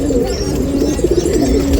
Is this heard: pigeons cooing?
yes